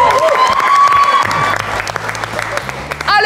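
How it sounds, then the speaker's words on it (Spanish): A studio audience at a Spanish-language comedy talk show claps and cheers loudly, with brief voices and whoops rising through the applause before it begins to fade near the end. "Se aplaude"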